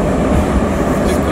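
A Moscow metro train rumbles loudly and steadily, a dense low roar filling the whole moment with no break.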